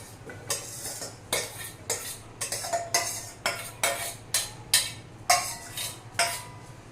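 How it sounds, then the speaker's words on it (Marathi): A spoon clacks rhythmically against a pot as raw mango pieces are stirred into a spice masala, about a dozen sharp knocks over a low background hum with no talk. "त्यांनाही छान असं एकजीव करून घेऊया।"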